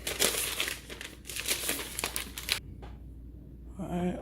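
Protective plastic wrap is ripped off a new MacBook Air, a close burst of crinkling and tearing crackle that stops abruptly, followed by a brief quiet and a short voice at the end.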